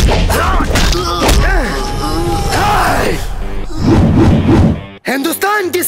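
Punches and heavy thuds land in a violent beating during a Bhojpuri film fight scene, loud and close, mixed with shouts, grunts and cries from the men fighting.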